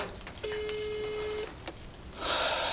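Ringback tone of an unanswered phone call in Chechnya, a single steady electronic tone lasting about a second, followed by brief clicks and a burst of hiss, with no talk.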